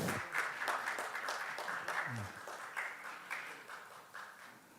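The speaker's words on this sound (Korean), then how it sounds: "큰 박수 부탁드리겠습니다." Audience applause at an academic awards ceremony of the Korean Society of Sport Industry Management, a room of moderate, fairly distant clapping holding steady for several seconds with some audible individual claps.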